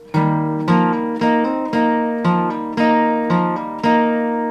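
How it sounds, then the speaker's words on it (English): Guitar notes ringing alone in a repeating pattern of plucked tones hammered on from the fifth to the fourth string, mixed with open strings, clear and close; the intro to a song. "So we hit the 5th string here, then we're going to be hammering on to the 4th string."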